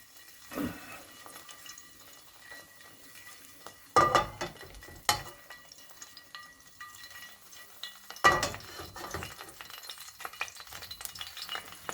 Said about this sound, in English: let it fry in oil to release its flavors and essential oils which the spices carry